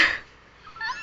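A cat meows twice in a quiet indoor home setting, a short bright cry at the start and a fainter, thinner one near the end, with no talk over it.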